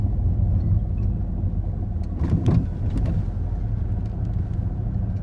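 A car creeps through traffic on a coastal road, its engine and road noise a steady low rumble inside the cabin, with a few brief rattles and clicks midway.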